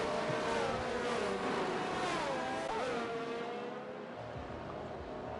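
Several race cars weaving across a track in a racing game to warm fresh tyres, a dense, steady engine drone with wavering pitch as cars swerve, fading slightly toward the end, with no voices.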